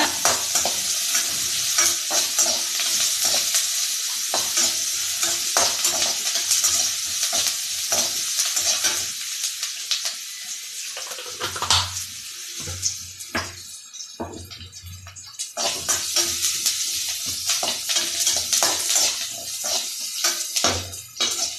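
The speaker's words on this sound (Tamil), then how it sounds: "இது நல்லா பொன்னிறமாக வர வரைக்கும் வதக்கிக்கோங்க." Curry base for kara kuzhambu sautéing in a pan until golden, a steady loud sizzle with repeated scraping stir strokes and brief pauses, no voices.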